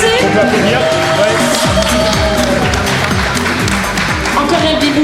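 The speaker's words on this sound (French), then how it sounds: "On peut applaudir." An audience at a live podcast recording in Rennes claps in a loud, dense round of applause that fills the room for the whole stretch, with voices mixed in over the clapping.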